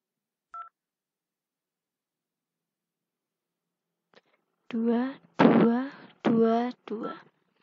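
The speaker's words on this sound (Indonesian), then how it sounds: "kita percobaan IP phone 1 menelpon ke IP phone 2 dengan nomor 2222." IP phone keypad dialing the number 2222 with DTMF tones: a brief beep near the start, then after a pause four clear, evenly spaced tones, close and distinct.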